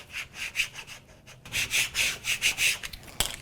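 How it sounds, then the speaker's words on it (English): A plastic scraper tool is rubbed back and forth across craft vinyl to smooth it down, giving a close, steady series of rhythmic scraping strokes with a brief pause, then a sharp tap near the end. "I'll smooth it down with the scraper tool"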